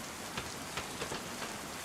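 Steady rain in the survival game DayZ, a continuous wash of falling drops with a few faint pattering accents, heard alone with no talk.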